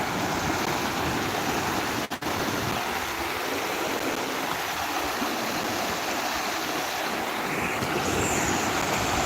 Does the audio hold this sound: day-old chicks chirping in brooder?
no